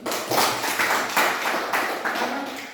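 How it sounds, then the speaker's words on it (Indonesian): A group of students claps after a class presentation, steady clapping over several seconds with a few sharper beats. "Tepuk tangan."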